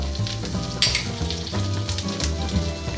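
Marsala wine hits a hot, well-seared pan and bursts into a loud, bubbling sizzle with crackling spatters as it deglazes, continuous and close with no speech.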